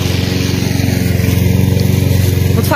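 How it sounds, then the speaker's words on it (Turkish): A lawn mower runs close by while cutting garden grass, a loud, steady engine drone with a fast regular pulse that holds throughout, with no talking. "Şimdi sırada çim biçme var. Annem biçiyor."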